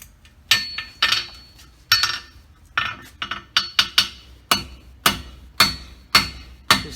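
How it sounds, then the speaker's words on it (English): A farrier's hammer strikes a steel horseshoe on an anvil's clip horn while forming a clip: a dozen sharp ringing metallic blows, some paired in quick succession, each with a bright decaying ring, close and alone. "letting that hammer drop, chasing that bubble out onto that clip horn"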